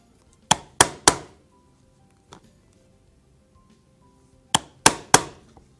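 A thonging chisel hammered through leather for a hunting knife sheath gives two groups of three sharp, loud mallet strikes, with a single lighter tap between them against a quiet background.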